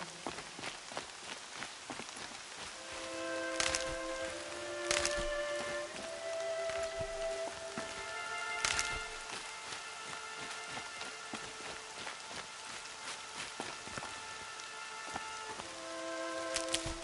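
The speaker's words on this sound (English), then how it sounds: "More rain." Rain falls steadily in a PlayStation 4 game, a constant close hiss of drops on surfaces, layered with soft footstep-like crunches and occasional sharp cracks, while sustained musical tones drift in and out beneath it.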